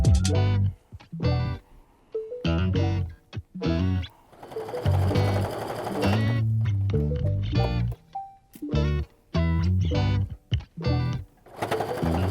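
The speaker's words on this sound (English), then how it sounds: "I'm going to go ahead and stitch this with a 1/4 inch seam" A sewing machine stitches a kaleidoscope quilt block with a 1/4 inch seam, loud close whirring runs in repeated stop-start bursts separated by short silent gaps.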